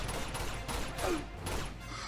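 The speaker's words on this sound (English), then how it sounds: "That's alright, we're just shooting." Gunfire in the video game Uncharted 2: Among Thieves, a short burst of rapid shots and bangs over game background noise, fairly close and loud.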